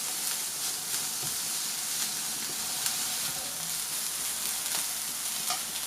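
Garlic fries in a pan over medium heat, giving a steady, close sizzle and crackle that runs throughout with small pops and no talking.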